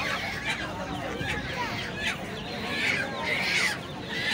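Geese and ducks at a busy wholesale poultry market, with scattered honks and clucks rising over a constant murmur of market noise.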